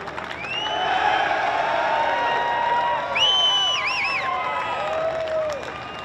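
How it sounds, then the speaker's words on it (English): A stadium crowd applauds and cheers the winners of the 2019 Oceania Rugby Under-20s Championship, a steady wash of clapping and shouts with whistles and voices rising above it. "A round of applause, ladies and gentlemen, the winners of the 2019 Oceania Rugby Under-20s Championship."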